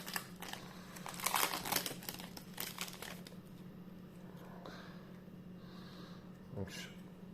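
Old Yu-Gi-Oh Metal Raiders booster pack wrappers in Portuguese are torn and crinkled open, with bursts of close foil rustling and tearing that fade into quieter handling and occasional sharp crinkles.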